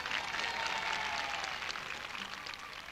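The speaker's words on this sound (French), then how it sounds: "On applaudit très fort, comme il se doit," An audience at a tribute evening applauds warmly, producing a brief, dense and steady wash of clapping that carries on evenly without voices over it.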